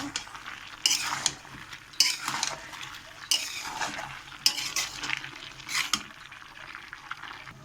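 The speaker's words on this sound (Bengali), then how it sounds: "এইভাবে এরকম নেড়ে ছেড়ে নেব।" Jackfruit seed curry is stirred in a pan, with repeated scraping strokes and sharp utensil clinks against the metal over a soft sizzle, close up and without talk.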